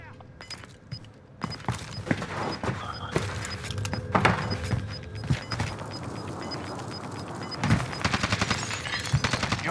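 Gunfire in the video game Warzone comes in repeated sharp bursts and rapid volleys over a busy bed of game noise, some shots loud and close, others lighter.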